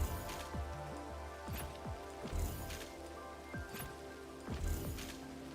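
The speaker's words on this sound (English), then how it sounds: "Rain sounds get me sleepy." Rain falling in the video game Girls' Frontline: Neural Cloud, a steady pattering shower with a few louder drops and splashes at irregular intervals.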